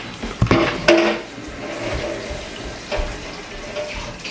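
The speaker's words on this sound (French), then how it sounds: "attendez un instant, faut que je serve de l'eau à l'enfant" A kitchen tap pours water to fill a child's cup at home. A couple of sharp clinks of dishware come first, then a soft steady stream of running water, close by and without speech.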